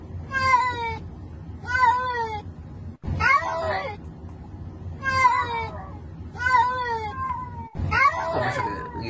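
A cat meows loudly and repeatedly, about six drawn-out calls in an even rhythm, close by and alone, with no voices over it.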